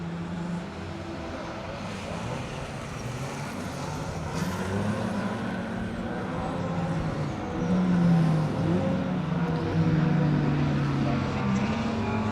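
A Mazda MX-5 rally car races on a circuit stage, its engine a steady droning roar that swells gradually as it approaches, heard from a distance without talk.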